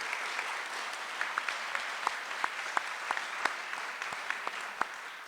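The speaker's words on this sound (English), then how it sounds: "So if we would offer up a round of applause, please, to the back of the house who does that back-end work." A school district awards ceremony audience applauds, many hands clapping in a steady wash with a few sharper nearby claps standing out, fairly distant in a large room.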